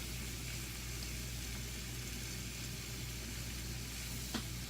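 Mushrooms fry in butter in a pan, giving a steady, soft sizzle that hisses evenly and faintly throughout with no talking.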